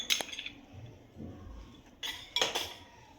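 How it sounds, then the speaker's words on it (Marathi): Faint clinks of a metal spoon against a bowl while mixing cabbage manchurian ingredients with soy sauce, red chili sauce and ginger-garlic paste, a few light taps in two brief clusters amid soft stirring. "हे छानपैकी आपण मिक्स करून घेणार आहोत"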